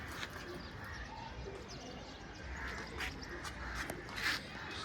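Caged pigeons of an old-generation breed softly cooing, with faint chirps and light rustling over a quiet background.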